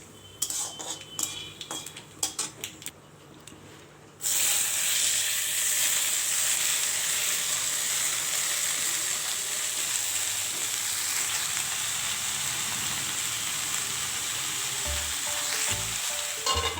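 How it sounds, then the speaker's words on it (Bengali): Greens (shak) frying in a pan with dal, black cumin and dried chilli, a few clatters of utensils, then a loud steady hiss and sizzle rising abruptly and continuing close up, with occasional spoon knocks against the pan. "তো শাক ভাজা হচ্ছে"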